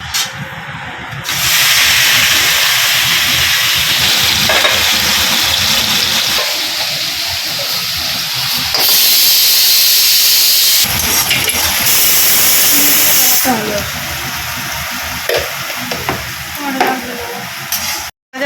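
Vegetables frying in hot oil in a kadai give a loud, steady sizzle with close stirring scrapes and occasional bursts of spitting that carry on through the whole stretch.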